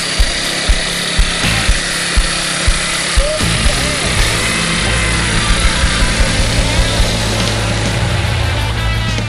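A lawn mower engine on a homemade go kart, revved hard with the clutch held, makes a loud continuous rough drone with rhythmic knocking pulses, while people talk nearby.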